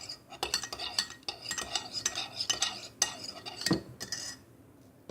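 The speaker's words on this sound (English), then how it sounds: "And also give it one nice stir again." A spoon stirring coffee in a cup, quick metallic clinks and scraping taps close up in a busy irregular run, thinning out toward the end.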